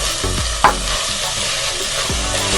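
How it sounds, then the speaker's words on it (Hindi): Ground spices, including coriander, turmeric and red chilli powder, fry with tomatoes in a pan for a black-eyed pea curry. A steady sizzle runs throughout, with scraping stirs and one brief clack of the spoon against the pan. "और अच्छे से पकाएंगे ताकि हमारे टमाटर जो है वो सॉफ्ट हो जाए।"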